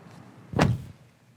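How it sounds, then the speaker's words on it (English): The door of a 2025 Kia EV6 GT-Line is shut once at night, giving a single solid, close thud with a short low-end rumble, against quiet surroundings with no talking. "All right, and shut the door."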